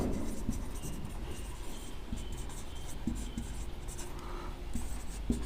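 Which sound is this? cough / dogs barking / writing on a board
writing on a board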